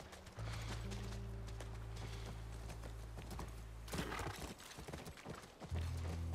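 Rhythmic hoofbeats of a horse in the game The Last of Us clip-clopping over a steady low hum of game ambience, with a brief burst of louder movement partway through.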